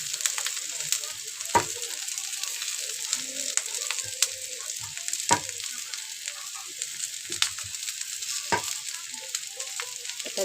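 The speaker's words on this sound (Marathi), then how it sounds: "आता छानपैकी खोबरं पण भाजून घेऊया." Grated coconut roasts with browned onion in a pan while preparing a mackerel (bangda) fish dish, producing a soft continuous sizzle punctuated by occasional sharp clicks and taps of stirring.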